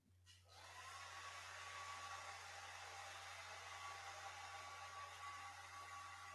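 A blender mixing margaritas whirs up and runs at a steady, loud, high-pitched drone with a low motor hum underneath.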